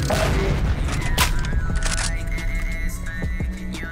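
A loud burst of booming impacts and crackling debris from a Garry's Mod DarkRP game explosion, with sharp cracks and rumbling, dense and close, continuing throughout.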